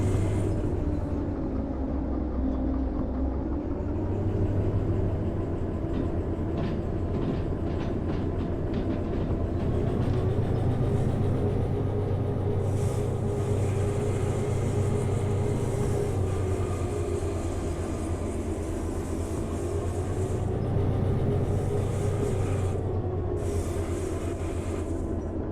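A heavy train locomotive in Derail Valley hauls a heavy load up a mountain grade, a steady loud low rumble and drone of engine and rolling wagons throughout with faint rail clicks, alone with no talk.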